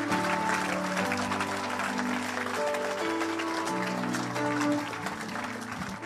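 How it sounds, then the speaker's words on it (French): A congregation applauding during a church service, sustained clapping that holds steady across the clip and blends with sustained tones of music beneath it. "Let's give him a round of applause"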